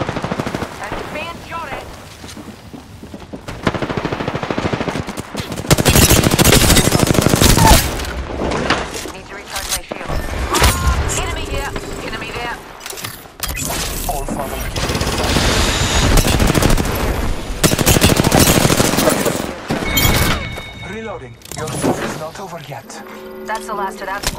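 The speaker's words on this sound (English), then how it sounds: "Opening fire. Responding. I'm taking shots." Gunfire in the Apex Legends video game, a Bloodhound match: loud bursts of automatic weapon fire in repeated volleys with short pauses, mixed with game effects and character voice lines.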